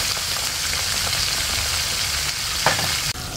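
Fish crackling and sizzling in a pan of hot oil on its second frying, a loud, dense, continuous spatter close by, with a brief clatter near the end and no voices.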